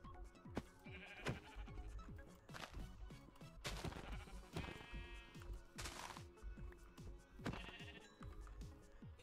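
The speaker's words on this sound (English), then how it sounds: "Pink sheep!" Pink sheep in a survival video game bleat repeatedly, several nasal calls spaced across the clip over sharp, thumping game sounds and clicks, fairly close and clear.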